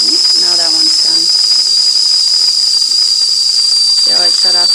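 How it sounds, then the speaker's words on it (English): A stovetop tea kettle whistles steadily and shrilly, a continuous high tone with hissing steam running through the whole stretch, while someone talks briefly over it at the start and end. "Not as obnoxious as this one with the whistling. It's still whistling."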